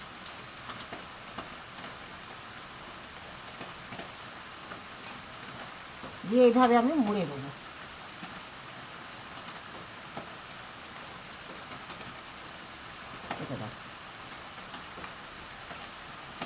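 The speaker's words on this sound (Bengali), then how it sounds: "যা বৃষ্টি হচ্ছে বন্ধুরা" Monsoon rain falls steadily as a soft, continuous background wash, with someone speaking briefly over it once and a faint low rumble later.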